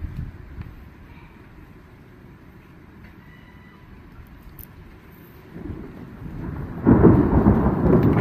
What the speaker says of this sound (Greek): Έχει και αρκετούς κεραυνούς, είναι η εποχή που έχει.